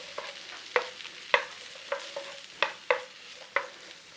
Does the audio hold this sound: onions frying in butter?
yes